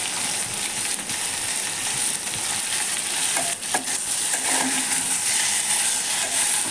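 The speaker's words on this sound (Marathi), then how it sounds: "मंद गॅसवर सगळं मीठ वगैरे टाकून व्यवस्थित हलवून घेतोय।" Capsicum, cauliflower, tomato, potato and masala for masale bhat sizzle and fry in a pan over a low gas flame while being stirred, with a steady close hiss and occasional scraping.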